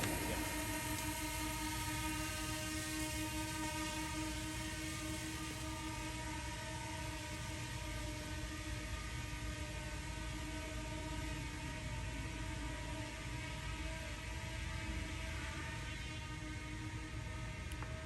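A light aircraft in straight and level flight drones with a steady, even engine hum. The tone holds constant and fairly faint for the whole stretch, with no talk.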